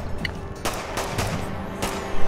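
Gunfire in the zombie video game Contagion, a rapid burst of repeated shots fired close by, cracking sharply over a steady hum of background game ambience.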